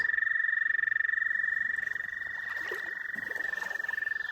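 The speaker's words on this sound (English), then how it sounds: "Those are gray tree frogs." Gray tree frogs trill continuously in a loud, pulsing chorus near rocks in Missouri, with a few faint other sounds in the background.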